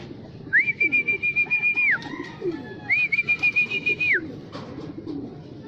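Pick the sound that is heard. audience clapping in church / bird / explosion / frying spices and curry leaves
bird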